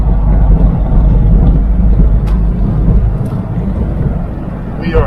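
A Jeep TJ drives along at a steady, reasonable speed, giving a loud, continuous low road-and-engine roar with wind buffeting and no talking.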